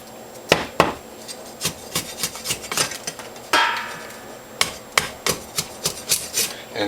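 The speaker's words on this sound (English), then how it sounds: "I'm going to peel the sugar cane" A knife strips tough outer skin from a sugar cane stalk in a series of sharp scraping, chopping strokes, irregularly spaced and close, with one longer rasping scrape midway.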